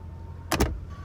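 A brief electric motor whir from a 2017 Audi Q7's power seat being raised back up, a short double-pulsed buzz, close and faint inside the car.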